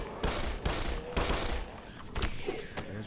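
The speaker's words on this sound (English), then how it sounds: "Keep the shooting up" Gunshots in the game Black Mesa, four or five loud, close blasts spaced irregularly, each leaving a short reverberant tail.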